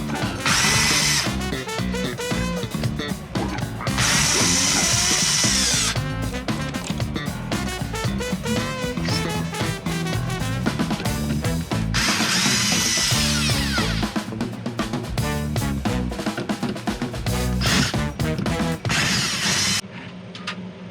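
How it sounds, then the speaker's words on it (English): Power drill backing screws out of a Little Guy Max camper window frame, loud close whirring bursts that start and stop repeatedly with ratcheting clicks between them, and no talking. "Alright, so take out these screws."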